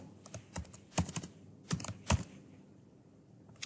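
Someone types code for a login application on a computer keyboard, quick bursts of close key clicks that trail off into a quiet pause.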